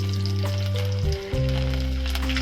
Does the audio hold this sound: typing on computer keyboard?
no